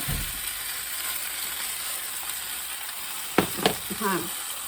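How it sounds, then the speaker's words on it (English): Chunks of green pepper and onion sizzle in a frying pan for chicken cacciatore, a steady close hiss running throughout, with a few brief clatters of the utensil near the end. "my vegetables are going to go first. The green pepper and the onion."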